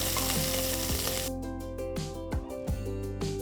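Sliced onions sizzle and fry in ghee with whole spices and cashew nuts. A steady, close hiss is broken by clinks and scrapes of stirring, with music playing underneath.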